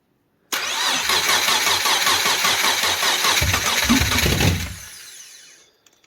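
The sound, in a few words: Subaru Impreza EZ30R engine cranking on starter wire, almost starting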